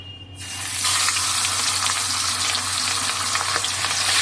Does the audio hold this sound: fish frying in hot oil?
yes